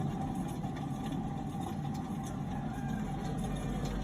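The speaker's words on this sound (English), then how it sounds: "That is the sound of a wheel bearing that's absolutely knackered." Worn front wheel bearing on a 2012 VW Golf GTI growling steadily as the car drives, a continuous low rumbling drone with road noise, loud and close, no talk.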